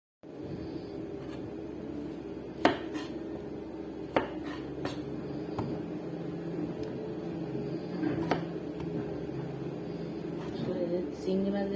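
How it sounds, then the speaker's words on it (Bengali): A knife cuts pointed gourd (porol) into long strips in a home kitchen, giving sparse, sharp taps on a board every second or two over a low, steady background hum. "তো এখানে আমি পোরল কেটে নেব।"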